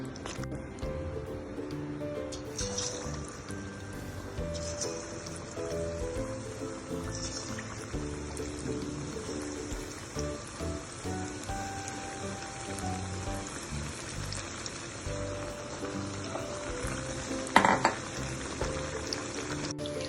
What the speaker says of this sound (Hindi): अब इसे हम फ्राई करेंगे।